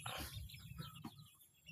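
Free-range village chickens on a small poultry farm cluck and murmur softly, a faint, low flock sound with one brief sharper call.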